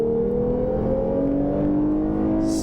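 A 2021 Lexus IS 350 F Sport accelerating hard from a standstill toward 60 mph, its engine note climbing steadily and loudly inside the cabin, with no voices.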